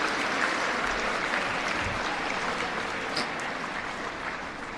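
A crowd at an indoor award ceremony claps steadily and densely for the football team, a sustained wash of applause with no speech over it.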